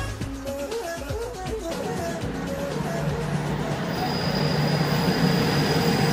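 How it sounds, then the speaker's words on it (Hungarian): A passenger train from Belgrade pulling into a station, wheels squealing in high-pitched rising and falling tones over a loud, steady rolling rumble, heard close by throughout. "Időközben befut a belgrádi vonat is."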